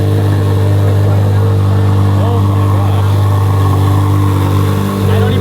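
A Ferrari Enzo ZXX engine runs steadily and loudly close by, a deep, droning hum that holds even throughout with little change in pitch.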